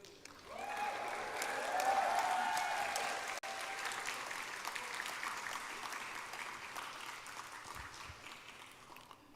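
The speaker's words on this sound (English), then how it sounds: "with a resounding round of applause," Audience applause at a university graduation ceremony in a large hall, sustained broad clapping from a big crowd that swells then holds steady, with a few faint cheers and whoops mixed in.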